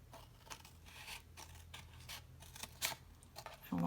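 Scissors cut paper for a stationery box, a close run of quiet snips and scratchy paper rustles with a few sharper cuts toward the end.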